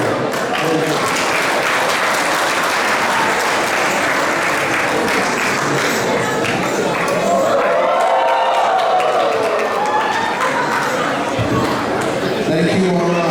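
Audience applause for a Swami's lecture at a Krishna Janmashtami gathering: loud sustained clapping mixed with crowd chatter, and a voice speaking through the middle of it.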